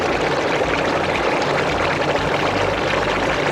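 Water pours and drains steadily from the basket of a compost tea brewer, a loud, continuous close rush without pauses.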